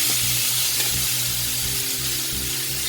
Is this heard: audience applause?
no